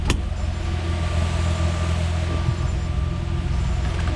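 A modified Nissan Z sleeper idles close by, its exhaust giving a steady, low, loud rumble throughout, with a brief click at the very start.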